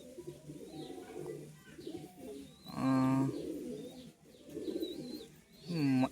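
Kamagar high-flying pigeons coo close by in soft, throaty, repeated bursts, several rolling calls in a row, with faint chirps and shuffling around them.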